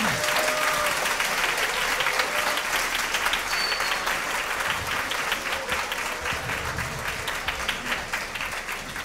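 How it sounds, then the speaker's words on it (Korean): An audience at a high school youth debate final bursts into loud, sustained applause, a dense clapping roar that fades slightly over several seconds. "여러분 큰 박수 부탁드립니다"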